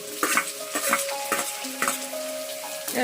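Onion goes into a hot pan already holding mustard seeds and garlic for Kerala mango pulissery, sizzling close by while a utensil repeatedly scrapes and clinks against the pan with ringing metallic tones.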